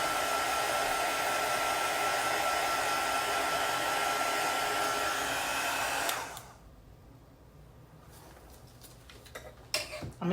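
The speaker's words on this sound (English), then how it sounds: "Anytime that you use your heat gun, make sure you move it back and forth really quickly" A heat gun blows steadily over epoxy-coated tumblers with a loud, even whooshing roar for about six seconds, then cuts off abruptly, leaving a quiet room with faint clicks and knocks.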